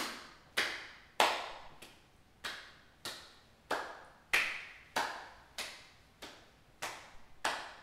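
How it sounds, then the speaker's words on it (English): Hands clapping during a yoga routine, alternating in front of and behind the body, about eleven sharp claps at a steady swinging rhythm, close and clear with no talk. "the next one we're going to clap our hands in front and then behind, keep them low."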